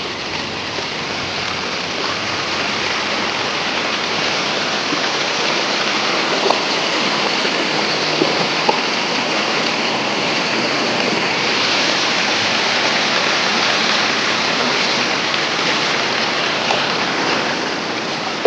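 Rushing floodwater pours through a farm field after heavy rain, a steady broadband roar of churning water that stays loud and unbroken throughout, with no voices.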